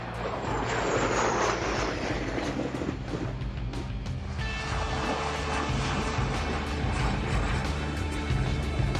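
Thunderbirds jets fly overhead at an air show, a loud, continuous roaring engine wash that rises and sweeps past with no talk over it.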